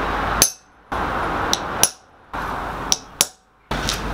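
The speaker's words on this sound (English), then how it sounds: "we're just going to center punch quickly." Sharp metallic hammer strikes on a center punch marking metal while building a camera swing boom arm, about six distinct taps in uneven pairs, close and loud with quiet gaps between.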